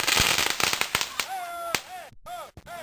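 A Fourth of July firework in a street in Kenilworth gives off a rapid burst of sharp crackling pops, then fades out as excited voices shout nearby.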